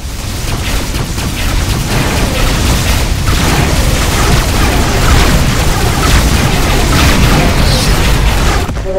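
Broadside cannon fire from a spaceship in the Rebel Galaxy game, a loud, dense, continuous rumble of overlapping booms and blasts held steady for several seconds.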